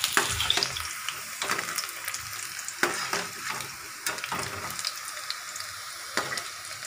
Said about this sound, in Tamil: இந்த ப்ரௌன் கலர் வரணும்னு லைட்டாக வறுத்தடுங்க